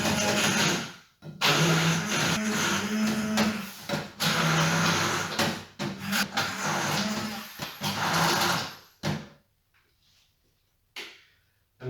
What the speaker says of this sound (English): I'm going to blend these just to a rough,